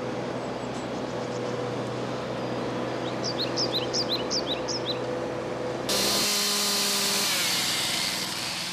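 Power tools cut vegetation on a riverbank with a steady droning buzz, while birds chirp in a short burst partway through. The tool grows louder and harsher toward the end.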